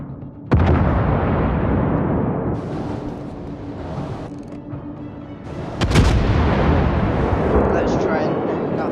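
Heavy warship cannon fire in the naval video game World of Warships: deep booming blasts, one near the start and a louder one later, each followed by a long rumbling roar that fills the clip.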